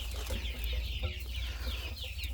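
Chickens and chicks clucking around a rural house garden, a steady stream of soft, overlapping clucks and cheeps over a low background rumble, fairly close and continuous.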